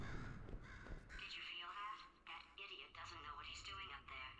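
A bird caws in a Portal 2 game scene, with harsh repeated calls over about four seconds while people talk throughout.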